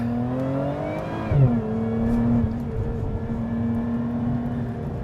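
Lotus Emira supercharged V6 with a six-speed automatic pulling hard in first gear, a loud close engine note rising steadily in pitch, dipping at a brief shift-like break, then droning on at a steady high rev.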